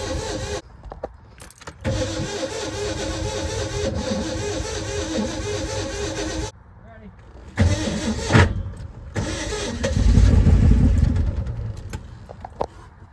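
Locked-up Ford F-250 engine cranks, catches and runs unevenly with the choke closed, sputtering in bursts and dropping out, with brief gaps, clanks and a louder low rumble near the end.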